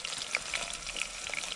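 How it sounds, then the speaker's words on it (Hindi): Onions sizzle in hot oil inside a pressure cooker, giving a steady, close frying crackle with small pops and no voices. "तेल अपना गर्म हो गया और इसमें प्याज डाल देता हूँ मैं"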